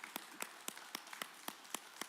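Hands clap in a steady, evenly spaced rhythm during a gentle yoga session, about nine crisp, close claps roughly a quarter second apart over quiet room tone.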